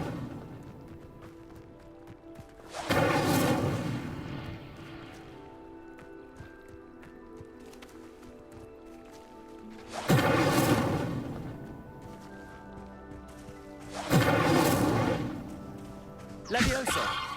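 Incendio fire spells are cast in Hogwarts Legacy, each a sudden loud whooshing burst of flame that fades out, heard three times over ambient game music, with a shorter fourth impact at the end.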